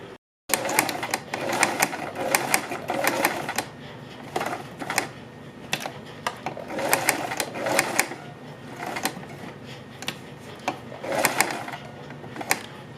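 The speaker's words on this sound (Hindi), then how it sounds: "और अब हम इस डिज़ाइन के किनारे किनारे पर एक एक सिलाई लगा लेंगे।" A sewing machine stitches along the edge of a kurti boat-neck design in close, loud bursts of rapid mechanical clatter, stopping and restarting several times with short pauses between runs.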